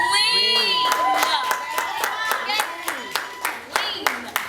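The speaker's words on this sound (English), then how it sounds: "Give her a round of applause." A children's audience at a Boys and Girls Club claps and cheers, with sharp, rhythmic hand claps and excited high-pitched shouts and whoops filling the room, loud and close.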